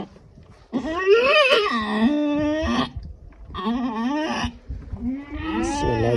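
A goat cries out loudly while giving birth, three long strained bleating calls with short pauses between them, close by and clear.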